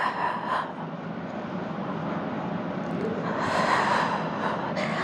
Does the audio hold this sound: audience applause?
no